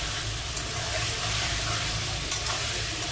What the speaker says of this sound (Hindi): आइए मसाला ऐड करके इसको हम बढ़िया से भूनेंगे